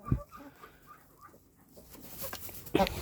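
A bantam hen sits on hot eggs in a nest, giving soft, close clucks and low grumbling calls in short bursts, followed by a louder rustling scuffle near the end.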